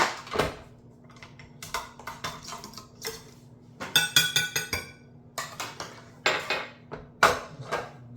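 A stand mixer is taken apart after churning butter from raw cow's milk: repeated clinks and clatters of metal parts and bowls, sharp and close, in irregular bursts with short pauses between.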